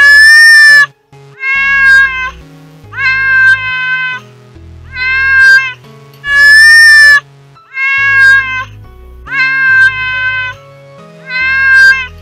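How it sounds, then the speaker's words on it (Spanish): A small kitten trapped in the gap of a metal wire mesh meows loudly over and over, giving eight insistent, evenly spaced cries close to the listener, with faint low rustling between them. "un pequeño gatito quedó atrapado en uno de los huecos de una malla metálica"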